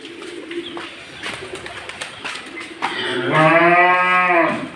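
A cow lets out one long, loud, drawn-out moo close by, preceded by softer background noises and faint bird cooing.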